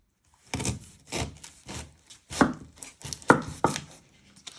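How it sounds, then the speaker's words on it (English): A kitchen knife chops through an onion on a cutting board, trimming its ends: about seven crisp, separate thuds spaced unevenly, close and clear with no voices. "You first chop the ends off. Then I like to flatten it, so it's more easy to chop."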